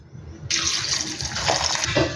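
Water poured onto basmati rice for biryani, one and a half glasses to one glass of rice, a steady close splashing pour that starts abruptly and runs alone.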